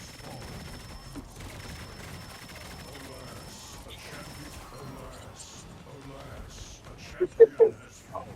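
Rapid gunfire crackles through a Marvel Rivals wave-based match, sustained bursts mixed with game effects, ending in a few loud, sharp blasts near the close.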